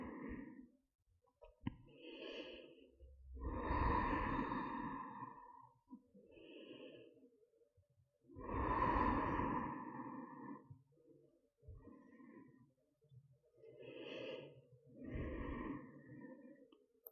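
Long, slow yoga breaths drawn in and let out during a seated stretch, each a soft airy rush several seconds long, repeated in an unhurried rhythm and close by.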